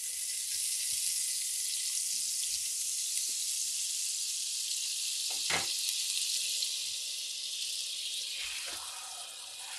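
Osso buco meat searing in a pan of olive oil and butter gives a steady, loud, close sizzle throughout, broken by a couple of brief clinks from the pan.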